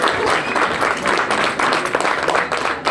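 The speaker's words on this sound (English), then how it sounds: "If you're clapping for that statement" Audience clapping at a hotel ribbon cutting ceremony in Peekskill, a steady wash of applause from a gathered crowd that stays even and dense throughout, with faint voices mixed in.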